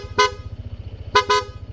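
Three short, bright honks from an aftermarket Corsa horn on a Honda ADV160 scooter, one then a quick double, over a low rapid engine putter nearby.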